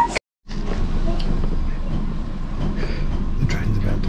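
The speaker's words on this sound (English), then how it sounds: "The train's about to go again" An Indian Railways train sits ready to depart, giving off a steady low rumble and clatter of carriage and station noise, broken by a brief silence near the start, with a voice speaking over it.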